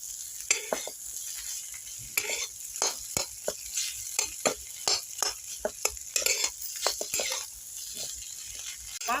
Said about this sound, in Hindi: ये सारे चीज़ों को डाल के फिर अच्छा से हम इसे चला लेंगे और चला के भून लेंगे इस आलू को